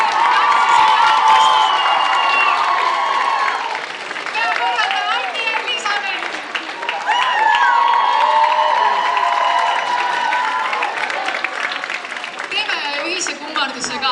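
School PlayBox audience cheering and clapping for organisers called to the stage, sustained crowd shouts and applause with a host's voice talking over it.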